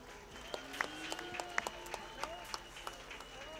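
A crowd at the Balkans Drift Super Cup drifting event claps with scattered, uneven hand claps, fairly distant and moderate in volume, with no voices on top.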